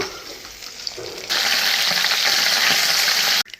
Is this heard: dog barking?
no